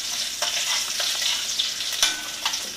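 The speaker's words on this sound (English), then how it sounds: "my bay leaves, and green chilies. Just stir it for few seconds" Bay leaves and green chilies with cumin seed sizzle steadily in hot oil for an Indian aloo gobi, with a few sharp stirring scrapes over the continuous close frying hiss.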